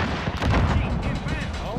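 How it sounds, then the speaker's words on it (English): Gunfire in a first-person shooter video game comes as dense, loud, rumbling bursts of shots and booms, continuous and close throughout. "There's still firing."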